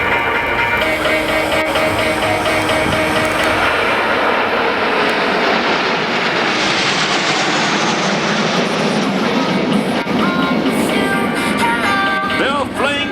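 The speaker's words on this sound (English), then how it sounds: "on your left, coming for the first flyby, Patrouille de France 2011." Patrouille de France jet aerobatic team makes a flyby at the 2011 Leuchars Airshow, a loud, close, sustained jet roar that swells and shifts in pitch as the formation passes, with no voices.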